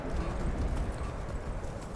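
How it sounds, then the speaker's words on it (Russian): Horse hooves clop steadily in the video game Skyrim, a continuous trotting rhythm over a dense low game soundscape with no clear voices. "Это лошадь. Такая лошадь."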